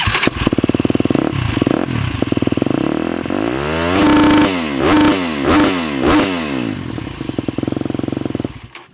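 A 2018 KTM 250 SX-F dirt bike with an FMF 4.1 exhaust sits at a rapid, popping idle, then is revved hard several times with sharp, rasping bursts, loud and close.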